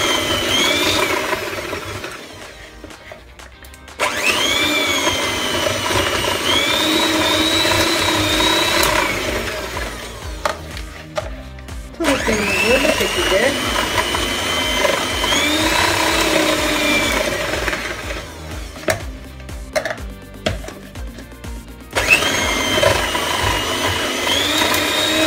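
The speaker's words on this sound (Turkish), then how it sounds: "Bir miksere ihtiyacınız var bunun için" An electric mixer whines steadily for a long stretch, shredding cooked chicken in a deep bowl, its pitch shifting as it works, with a few brief pauses.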